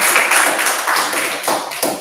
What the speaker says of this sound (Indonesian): Oke, tepuk tangan.